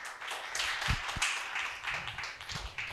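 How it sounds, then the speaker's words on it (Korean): An audience at an education forum claps for a guest speaker, a soft, distant spatter of applause that carries on evenly throughout without any talking. "박수 부탁드립니다."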